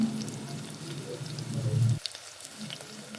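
Chicken cutlets deep frying in hot oil give a dense, steady sizzle with crackling pops, close up, for about two seconds before the sound drops to faint scattered crackles.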